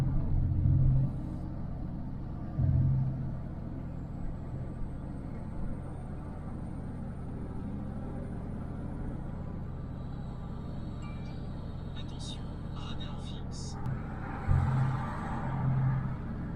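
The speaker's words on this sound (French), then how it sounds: "je lâche l'accélérateur, on dirait qu'il y a le ralentisseur, mais pourtant il n'y a pas le ralentisseur, il n'est pas enclenché" An Iveco truck engine winds down after the accelerator is released, a steady low rumble from inside the cab with a few louder low thumps and faint high whines near the end, no talk.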